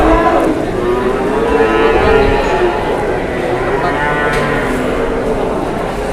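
A large 800 kg sacrificial cow moos in a long, loud, drawn-out bellow, with a second low call later, close by in a farm setting with someone talking over it.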